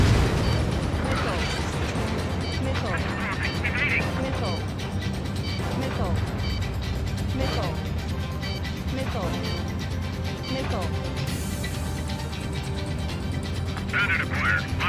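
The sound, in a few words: missile launch in the video game Ace Combat 7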